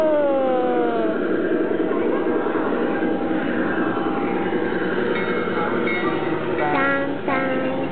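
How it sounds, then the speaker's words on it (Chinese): A long train passes at a county fair, with a clanging crossing bell and horn-like tones over steady rail rumble, close and fairly loud; a voice chatters faintly. "哦，火车来了，要当当当。"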